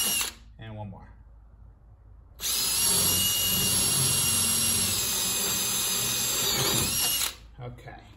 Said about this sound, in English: Now, in hindsight, I would have used my more powerful drill for this.